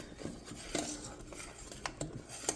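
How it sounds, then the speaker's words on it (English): Caramel for caramel popcorn bubbling in a pot while being stirred, with a spoon scraping and knocking against the pot in scattered, moderately loud strokes over a steady low bubbling. "you just want to keep stirring it right until it gets to that 255 mark"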